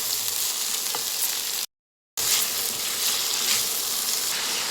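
Chopped onion and cabbage frying in white oil give a steady, close, dense sizzle with fine crackle throughout, broken by a brief half-second gap of silence.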